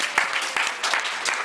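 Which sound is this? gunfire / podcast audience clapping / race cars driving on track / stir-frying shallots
podcast audience clapping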